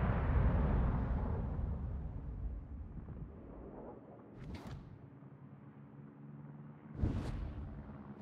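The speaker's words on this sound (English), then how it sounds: "Aircraft carrier blown up." An aircraft carrier blows up in World of Warships: a loud, broad rumbling blast opens and slowly fades into a low drone, followed by two brief whooshing bursts, with no voices.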